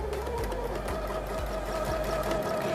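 Sewing machine stitching a flying-geese quilt block along a marked line, a steady continuous mechanical whir with a regular rhythmic needle beat, close and clear with no talking.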